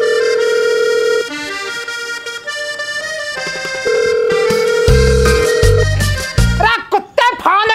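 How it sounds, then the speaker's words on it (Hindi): Phone call ringback tone repeating in steady electronic pulses, loud and clear, with a voice breaking in near the end. "हाँ बाप, लो घंटी जा रही है।"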